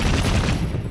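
Dense, continuous gunfire from a gun in the Assassin's Creed Syndicate video game, a loud rapid volley filling the whole second with no talk.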